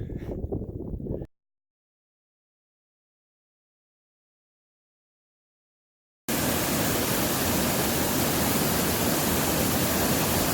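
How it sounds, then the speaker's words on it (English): A short bit of rushing water, then silence, then a loud, steady rush of a mountain stream draining into Pinkham Notch on the Appalachian Trail, constant and close. "Crossing one of the streams,"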